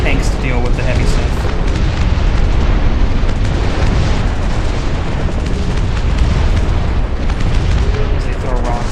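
Artillery shells exploding in the Dust Front RTS game, a dense, continuous barrage of booming blasts and crackling bursts filling the whole stretch, loud and close, with faint talk underneath.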